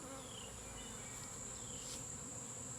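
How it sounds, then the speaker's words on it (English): Bees hum faintly around an elevated hive in a tree, a steady thin buzz running throughout with an occasional louder insect passing nearby over quiet outdoor air. "I can hear bees"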